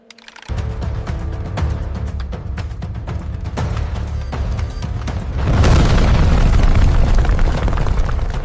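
Rock blasting in a railway tunnel excavation gives a loud, sustained rumbling roar that swells into a heavier booming burst partway through, deep and reverberant with no voices.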